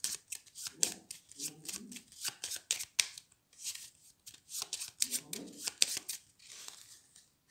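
Clan cards from the Dinoblivion board game are shuffled by hand in repeated quick riffles and slaps, crisp and close, with bursts of soft speech between them.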